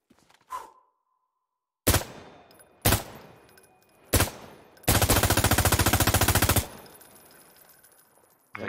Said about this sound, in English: Are you shooting over me out here?